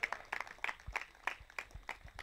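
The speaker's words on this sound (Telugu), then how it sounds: "కొట్టండి చప్పట్లు గట్టిగా" A congregation clapping in rhythm, sharp regular claps at a steady beat with a few thumps underneath, moderately loud.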